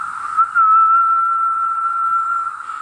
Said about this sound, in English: the dominant frequency being produced by the cicadas and the amount of noise they're making